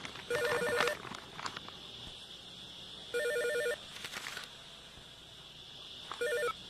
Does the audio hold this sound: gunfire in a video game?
no